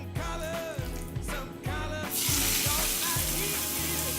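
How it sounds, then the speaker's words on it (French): Salmon fillet laid into hot oil in a pan over medium-high heat, a close sizzle that swells into a loud, dense crackling hiss once the fish hits the oil, with faint rhythmic thumps beneath. "Dans une plaque sur feu moyen fort, mettez-y de l'huile. On y place notre saumon."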